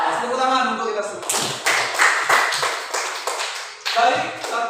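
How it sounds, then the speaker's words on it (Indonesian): A class claps in bursts of quick, uneven claps that start and stop, close and fairly loud, with voices speaking before and between them. "Tepuk tangan untuk kita semua."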